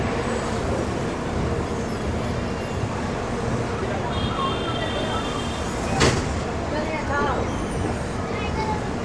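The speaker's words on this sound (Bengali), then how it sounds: "আমাদের ট্রেন এখন গয়া জাংশন ছেড়ে দিল" An express train rolls along after leaving Gaya Junction, a steady rumbling roar of wheels and carriage noise heard from inside, with a sharp clack partway through and a faint voice.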